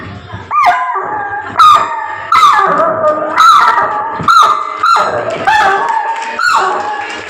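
A voice mimics a poor household's dog barking, about seven sharp, loud yaps in a steady rhythm, close to the listener.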